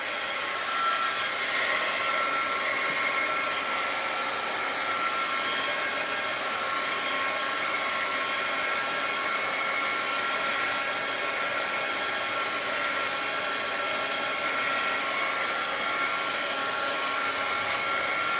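A hair dryer blows steadily to dry paint on a handmade snow globe craft, its close, loud broadband whoosh holding unchanged for the whole stretch.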